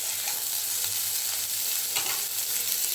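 Cauliflower florets frying in hot oil for a vegetarian roast, turned reddish-brown, giving a steady dense sizzle with faint stirring scrapes, close and continuous with no voices.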